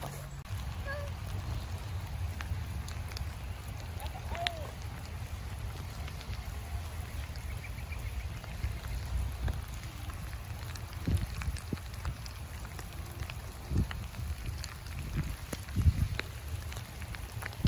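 Rain falls outdoors, making a steady wash of pattering drops on surfaces with scattered louder drips, continuous and close throughout, with no one speaking.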